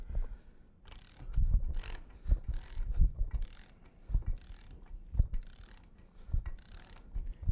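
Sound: ratchet tightening bolts on a pipe mechanical joint

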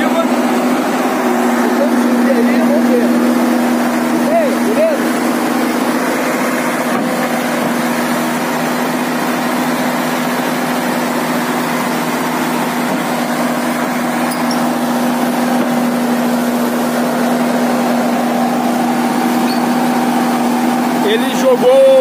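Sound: excavator engine climbing onto flatbed truck

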